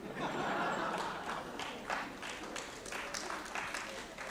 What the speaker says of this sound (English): I don't know why you are all clapping.